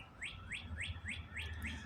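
Several birds chirp outdoors in a repeating series of rising tweets, about six evenly spaced calls over a low rumbling background, fairly close and clear with no talking.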